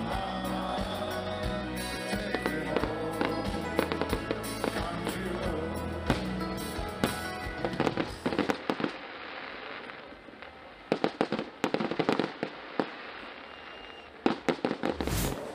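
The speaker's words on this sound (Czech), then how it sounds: "No a zapomenout nemůžeme ani na tradiční ohňostroj." Traditional fireworks at the Nürburgring truck race festival: a dense barrage of bangs and crackles fills the first half, then thins into scattered loud pops and sharp cracks with short gaps between them.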